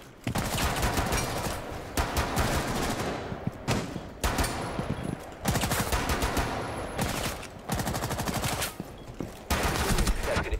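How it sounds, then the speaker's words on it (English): Loud, rapid automatic gunfire in Rainbow Six Siege comes in repeated sustained bursts separated by brief pauses, crackling and close, with no talk over it. "Can't shoot that many bullets and expect to be fine, bro."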